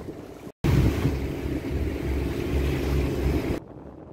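A sailboat heads out from an anchorage onto the sea near Antigua, with steady wind noise and rushing water close by, cutting off briefly before the end.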